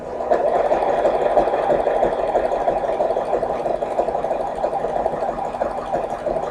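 A sewing machine runs continuously stitching a tiny 1/8-inch zigzag stitch, a close steady whirring hum with a fine rapid mechanical rattle and no pauses.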